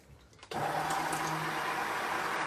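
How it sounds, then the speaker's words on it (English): After a short quiet moment, a stick blender switches on and whirs steadily at high speed in cold process soap batter with mica, a loud, close motor drone that continues to the end. "So I'm just going to put this stick blender right over that mica to push it down."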